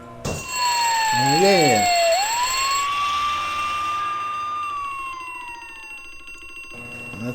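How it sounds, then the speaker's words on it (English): A glass-protected fire alarm in the video game Harvester rings in a loud, steady electronic tone with a sliding pitch sweep, sounding alone for several seconds after a brief voice at the start. "Glass protected fire alarm."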